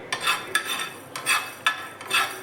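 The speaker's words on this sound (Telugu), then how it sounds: "వన్ టీ స్పూన్ మెంతులు వన్ టీ స్పూన్ ఆవాలు వన్ టీ స్పూన్ జీలకర్ర వేసి బాగా వేయించాలి" Fenugreek, mustard and cumin seeds are stirred while dry-roasting in a pan, a few regular scraping sweeps with light rattling of the seeds against the metal.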